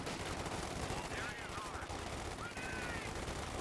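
Bursts of MG34 machine gun fire in the real-time strategy game Company of Heroes 2, a dense, continuous rattle under ongoing battle noise with a commentator's voice running over it.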